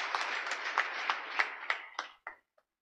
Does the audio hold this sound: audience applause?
yes